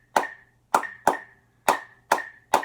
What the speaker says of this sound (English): So what I'd like you to do is just clap that